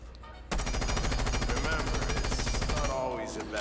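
Rainbow Six Siege gunfire with a compensator fitted: a loud, continuous automatic burst of evenly spaced rapid shots lasting about two and a half seconds, then a quieter tail.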